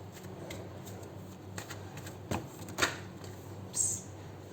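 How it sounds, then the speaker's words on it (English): A deck of tarot cards is shuffled and cards are pulled out, making soft, quiet riffling and papery slides with a few sharper snaps and flicks near the end, without speech. "We'll pull out 4 cards from here."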